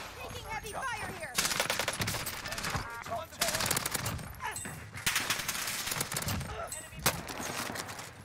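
Automatic weapon fire, including an MP7, during a Call of Duty Warzone match on Rebirth Island, heard as repeated loud bursts of rapid shots separated by short gaps.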